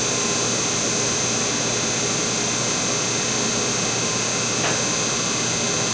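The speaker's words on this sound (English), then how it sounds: "So switch off the compressor?" An air compressor runs steadily, giving a continuous, fairly loud broadband hiss and roar with no pauses and one brief click near the end.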